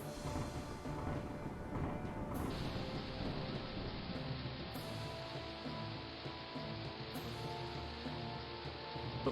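Rain summoned by a storm brew spell in the King's Quest III Remake video game pours steadily, a dense hiss of falling drops with low thundery rumble, fairly faint and continuous with no talking.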